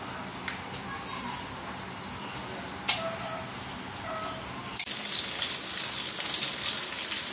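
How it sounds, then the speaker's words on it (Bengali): Onion fritters (peyaji) frying in hot oil in a home kitchen, a soft, steady sizzle and crackle that runs throughout, broken by a couple of sharp clicks and a brief louder spatter partway through. "চলো পেঁয়াজিটা ভেজে নিই"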